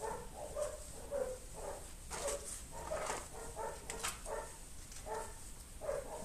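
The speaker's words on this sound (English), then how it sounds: "When I'm filming, I press stop now, they'll stop barking." Several dogs bark outdoors at a middle distance, a fairly faint, repeated run of barks and yips coming in irregular bursts across the whole stretch, with no talking over them.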